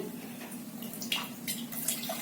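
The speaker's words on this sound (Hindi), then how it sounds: "इसमें हम 1 गिलास पानी डालते हैं" A glass of water is poured into sugared passion fruit juice, a soft, steady trickling and splashing at close range under a low background hum.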